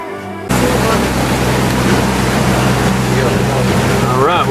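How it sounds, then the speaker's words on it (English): A boat motoring along at about 5 knots at sea, a steady loud engine drone with rushing water and wind noise, continuous and close throughout. "All right, we're just motoring back, taking our time. We're cruising at just about 5 knots."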